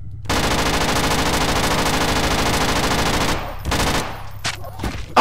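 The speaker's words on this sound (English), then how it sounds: "Submachine gun time." Rapid submachine gun fire in the video game Borderlands 2, a dense sustained burst for about three seconds, then broken short bursts with brief gaps, loud and close.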